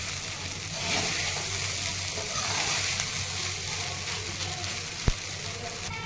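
Soaked poha frying and being stirred in a pan, a dense continuous sizzle with soft scraping movements and one sharp tap near the end.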